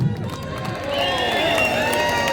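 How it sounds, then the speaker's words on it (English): A rally crowd breaks into cheering and noise for the day's speakers, swelling and holding steady after a brief stretch of talk at the start. "And we'll give a big cheer for all the speakers today."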